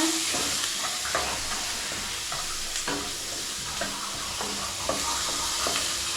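Onions with a pinch of salt sauté in a pan for a South Indian okra tamarind curry, a steady loud sizzle with intermittent scraping stirs, no voices.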